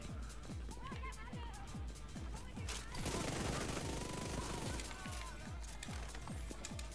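Rapid automatic gunfire from a firefight in The Division 2 at a mission location, sharp repeated bursts with a dense volley in the middle, fairly loud and continuous.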